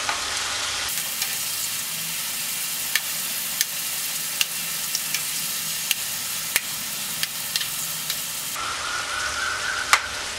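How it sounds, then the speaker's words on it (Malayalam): Prawns sizzle steadily in a hot pan for chemmeen roast after being flipped to fry the other side, a dense, even hiss broken by sharp little pops and ticks, close and constant with no voices. "മറിച്ചിട്ട് മറ്റേ സൈഡും കൂടെ ഒന്ന് ഫ്രൈ ആക്കണം."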